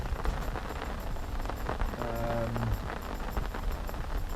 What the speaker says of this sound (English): And you can see the rain's coming down a bit.